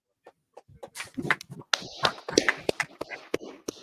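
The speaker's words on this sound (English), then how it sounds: "Clap it up." A small group claps in loose, uneven bursts, sharp close claps starting sparse and picking up into a ragged patter, with faint voices in between.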